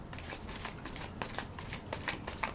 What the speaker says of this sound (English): First, I want to shuffle a little more